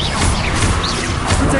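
A Confringo spell blast in Hogwarts Legacy, a loud, dense burst of crashing noise that fills the short moment, with a whooshing sweep through it.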